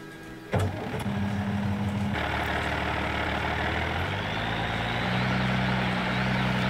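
Tractor engine in the Professional Farming farming simulator game, starting with a sharp click and then idling and revving steadily at close range, its low hum shifting pitch as it drives off, with no talk.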